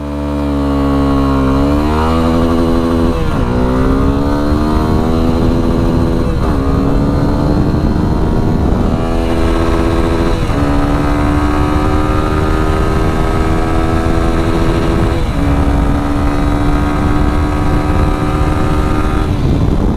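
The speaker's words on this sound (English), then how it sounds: "we are into first gear, revving the motor and off we go" A motorcycle engine revs hard, close and loud, with rising pitch sweeps as it pulls away in first gear and climbs through several revving surges, running steadily for the whole stretch with no talking.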